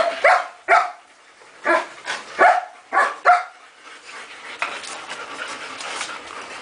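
A Rottweiler-pitbull mix dog lets out about six sharp, loud barks in an uneven series, then settles into quieter panting and whimpering close by.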